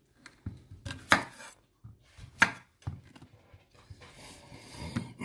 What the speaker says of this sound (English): chop the end off with each squash.